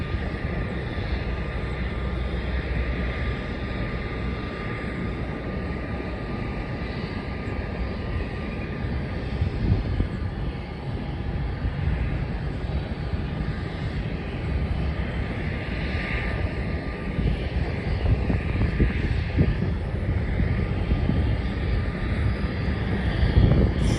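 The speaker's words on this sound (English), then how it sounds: "the Jetstar Airbus A320 on the east-west runway" A Jetstar Airbus A320 rolls for takeoff on the east-west runway at Melbourne Airport. Its steady jet roar is heard from a distance and holds for the whole stretch, gradually swelling slightly, with no talking.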